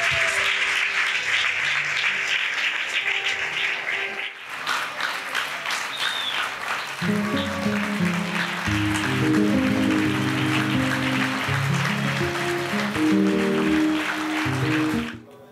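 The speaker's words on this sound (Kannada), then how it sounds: "ನಾವು ಚಪ್ಪಾಳೆ ಹೊಡೆದು ಸೇವಕರನ್ನು ಸಭೆಗೆ ಸ್ವಾಗತ ಮಾಡ್ತೀವಿ" Clapping from a church congregation welcoming visiting servants of God, loud dense applause that pauses briefly, then returns with music or singing tones underneath.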